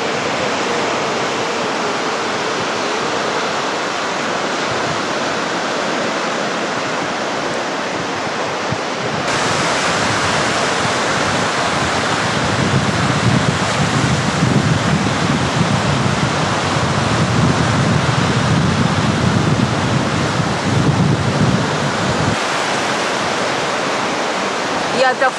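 Continuous roaring surf from a stormy sea at Anapa, waves crashing and hissing without pause, with a deeper rumble swelling in the middle stretch.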